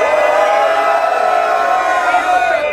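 A live hip-hop concert crowd cheers and roars in a steady, loud wash of voices and whoops that holds through the whole stretch with no break.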